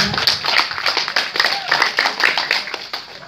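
An audience at a thanksgiving gathering with provincial council members claps in a brisk, uneven burst of applause. The sound is close and lively, with faint voices mixed in.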